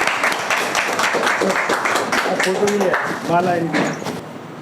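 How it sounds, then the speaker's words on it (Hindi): Audience at a school ceremony honouring selected students breaking into applause, a steady wash of many hands clapping over loud talk from a speaker. "ताली बजा"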